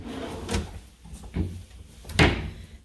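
Hotel room closet drawers sliding open and shut, three distinct wooden scrapes and bumps spaced about a second apart, close by, with no talking.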